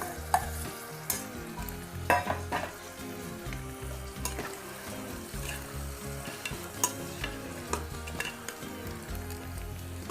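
Kidney beans (rajma) are stirred into a frying onion-tomato masala, with repeated scraping and clinking strokes of a spoon against the pot over a steady low sizzle, close and unbroken by talk.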